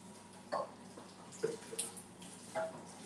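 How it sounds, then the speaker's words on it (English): Water splashing over a kitchen sink and draining board comes in a few short, separate splashes and trickles against a quiet room, fairly close and not very loud. "every single area and the draining board as well, completely have the water poured over it"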